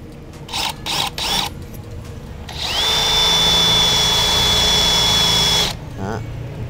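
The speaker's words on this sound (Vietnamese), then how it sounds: "sẽ khoan sắt thử nha anh em" A Stanley SBD715 FATMAX brushless cordless hammer drill, fitted with a worn, dull bit, bores into a 1 cm thick steel plate. It gives a few short bursts, then one loud, sustained whine for about three seconds and winds down.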